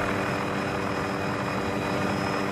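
A helicopter hovers near a high-voltage power line pylon, a constant, loud droning whir with steady rotor and engine tones and no change in distance.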